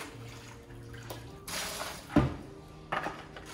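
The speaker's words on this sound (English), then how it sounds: "I'm just gonna rinse this bucket." A bucket being rinsed during coral acclimation for a reef tank, with soft running and splashing water and a few brief sloshing bursts, close and fairly quiet.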